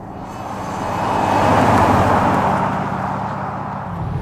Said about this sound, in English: you can certainly hear the car and it burbles nicely